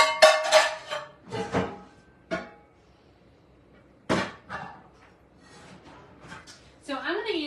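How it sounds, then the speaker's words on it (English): A stainless steel skillet clanks and scrapes as it is picked up and set down in a home kitchen, with several sharp metallic knocks and people talking in between. "So I'm going to use a stainless steel skillet for this."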